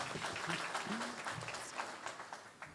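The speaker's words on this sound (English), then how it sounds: "please give him a round of applause" Faint, steady clapping from a debate audience rises and falls softly for a few seconds, with a voice murmuring underneath.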